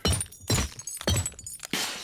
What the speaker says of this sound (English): We're going to use the hammer to break the glass on the top.